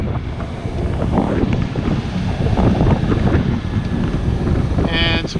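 A sailboat motors out from La Paz under engine power. A steady low motor drone is mixed with heavy wind buffeting on the microphone and the wash of water around the hull, with no talk.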